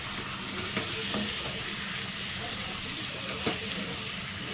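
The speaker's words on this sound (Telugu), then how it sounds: "దీన్ని ఒక 2 నిమిషాలు అయితే ఆయిల్లో మంచి చికెన్ ఫ్రై అవ్వనివ్వాలి." Half a kilo of washed chicken fries in hot oil, a steady soft sizzle with occasional stirring scrapes and faint clinks running throughout.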